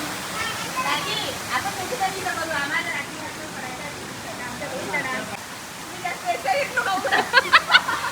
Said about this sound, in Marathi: जिथे खूप सुंदर असा हा धबधबा पण चालू होता